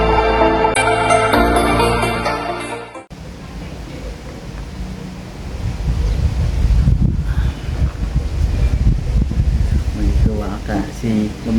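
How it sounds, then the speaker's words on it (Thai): Cool wind blowing outdoors, a steady rushing and buffeting against the microphone that follows a brief burst of music at the start and continues alone at moderate loudness. "ลมเย็นๆเนี่ยพี่น้องเนาะ"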